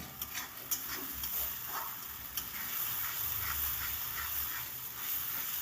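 Spices for a vegetarian mixed vegetable curry fry gently on a low flame, a faint continuous sizzle with occasional light spoon scrapes, close by and quiet, no voices.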